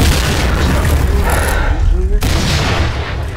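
Loud booming blasts and gunfire in the online shooter Piercing Blow, with a grenade explosion standing out in a dense, continuous battle mix and voices over it.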